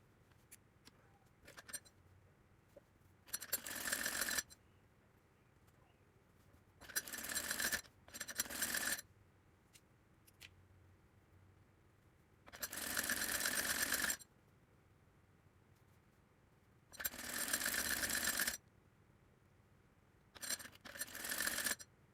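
A sewing machine stitches piping onto a child's fotua fabric in several separate runs of steady whirring, each lasting one to two seconds, with quiet pauses and faint handling between them.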